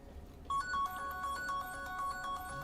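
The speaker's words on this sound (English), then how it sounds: "So, no, I'm not answering the phone." An electronic phone ringtone in the video game Star Citizen starts abruptly and repeats in a steady melodic pattern over quiet background hum, fairly close and clear.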